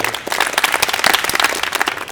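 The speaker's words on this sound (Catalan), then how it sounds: "Podeu fer-me el primer aplaudiment de 3 mesos." An audience at a young classical piano concert claps, a short, steady patter of applause from a full room.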